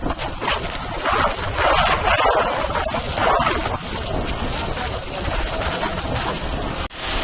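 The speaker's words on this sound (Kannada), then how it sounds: "ಫುಲ್ ಮಿಂಚು, ಮಳೆ, ಗಾಳಿ ಎಲ್ಲ ಹೆವಿ ಬರ್ತಿದೆ" Steady roar of wind buffeting the microphone with heavy rain hissing underneath during a lightning storm, loud and continuous throughout.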